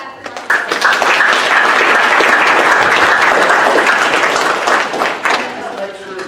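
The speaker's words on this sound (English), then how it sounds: "Let's clap for Dr." An audience in a college first-year seminar session claps loudly and steadily for a guest coming to the stage, the dense applause swelling quickly and then thinning out.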